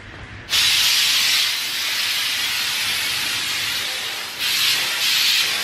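Hairspray hissing from an aerosol can onto a Christmas tree in one long, loud, steady burst, then a brief dip and a second strong blast near the end.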